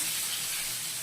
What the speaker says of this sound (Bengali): এখন চালকুমড়াগুলো দিয়ে দেবো ভাজার জন্য